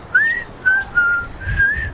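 A person whistles close to the microphone in several short melodic phrases with brief gaps, clear and fairly loud against quiet room background.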